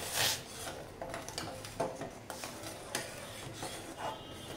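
A spoon stirs spices into boiling water in a pot, giving close, repeated scraping and clinking strokes against the metal in an uneven rhythm.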